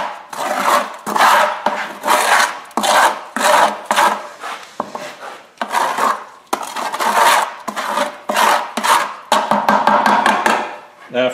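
A mixer churns GFRC concrete with sand in a bucket, giving repeated rough scraping and grinding bursts in an uneven rhythm, close and fairly loud.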